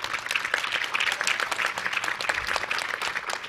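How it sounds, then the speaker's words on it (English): A conference lunch audience applauds at a plenary session, dense continuous clapping from many hands filling the room at steady volume. "Each of you should give yourselves a hand of applause."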